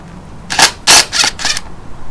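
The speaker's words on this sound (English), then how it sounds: "Second method, impact wrench." A pneumatic impact wrench on a Unimog U1300L water pump bolt fires in four short, loud, close hammering bursts, the second longest, with quiet between.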